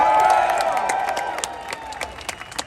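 A crowd at Lucas Oil Raceway in Indianapolis cheers and claps for Ty the Fabricator during a Grand Vic Indy 800 event, loud at first, then fading into scattered claps and whoops.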